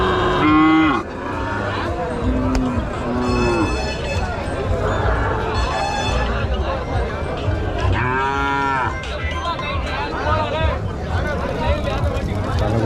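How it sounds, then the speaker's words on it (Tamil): At a cattle market in Mattrapalli, calves and cattle moo repeatedly close by, several loud drawn-out calls rising over a busy crowd murmur and shuffling livestock. "கண்ணுக்குட்டிங்க பாருங்கள், இங்கே ஒரு கண்ணுக்குட்டி இருக்குது"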